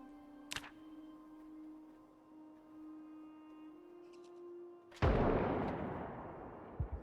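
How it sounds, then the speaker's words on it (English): A single sharp gunshot in Project Zomboid cracks suddenly after a quiet stretch of low humming tones, close and loud, then trails off in a decaying rumble. "Woke up to the sound of a gunshot."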